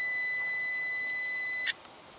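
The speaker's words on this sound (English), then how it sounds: "the digital multimeter continuity setting is working, which will make a beep sound" A digital multimeter on its continuity setting, used for testing a car's AC pressure switches, probes touched together, gives a single steady high-pitched electronic beep that holds for under two seconds and then cuts off, leaving quiet.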